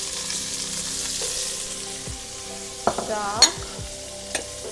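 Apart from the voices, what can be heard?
onion frying in oil in a pan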